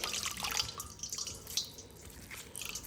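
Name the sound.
wringing out wet rag soaked in water and vinegar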